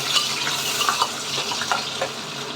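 Onions being stirred as they fry in a pan for Nellore small fish curry, with a steady sizzle and soft scraping strokes of the spoon recurring throughout, no voices.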